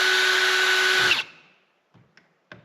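A power drill bores into metal on a garden trailer, a loud steady whine for about a second that winds down, then a few small clicks and taps alone.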